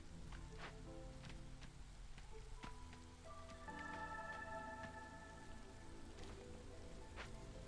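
Drizzle rain in the video game Against the Storm, a soft continuous patter under quiet game tones and chimes, with faint clicks scattered throughout.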